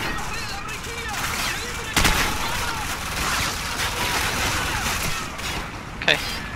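Call of Duty 4: Modern Warfare gunfire at a building rattles in dense bursts and overlapping volleys, with a sharp louder crack near the start and another near the end, busy and fairly loud throughout.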